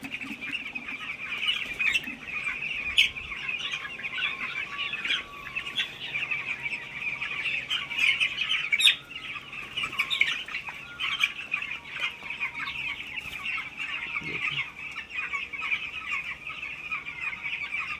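Chickens sitting in sand during hot weather cluck and chirp steadily, several birds nearby with overlapping calls and no voices.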